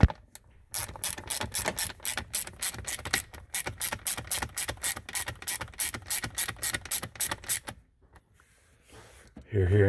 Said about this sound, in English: So we're just going to tighten up these 3 bolts.